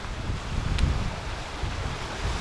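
Wind gusting at a harbour in New Plymouth, New Zealand, a continuous low buffeting roar with microphone rumble, loud and steady throughout.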